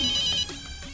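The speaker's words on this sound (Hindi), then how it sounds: "यो किसका फोन आ गया?" A telephone ringtone plays, a bright electronic tone that sounds clearly for about half a second and then cuts off, with no speech.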